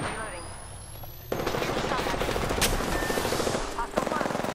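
Rapid automatic gunfire from the Apex Legends shooter breaks out after a quieter stretch, with dense bursts of shots and sharp cracks. The fire is loud and close and sounds over the game's ambient noise.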